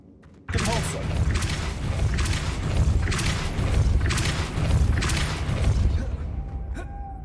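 A Depulso force spell cast in the Hogwarts Legacy video game lets loose a sudden loud burst, then a run of heavy, surging impacts and rumbling whooshes that pulse roughly every second before tapering off.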